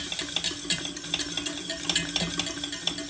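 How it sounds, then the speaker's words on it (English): Flour is briskly whisked into a paste in a pan for scalloped potatoes, making quick, rhythmic metallic scrapes and taps against the cookware, close and fairly loud. "So when you add the flour, you quickly mix."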